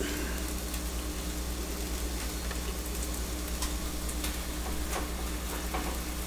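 Shaved steak topped with cheese sizzles in a hot pan, a steady close frying hiss with a low background hum and a few faint ticks, no voices.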